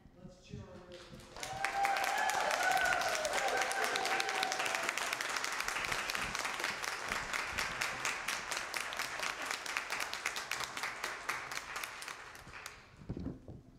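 Church congregation clapping at an Easter worship service, a loud, sustained burst of applause that swells quickly and fades after about ten seconds, with faint voices underneath.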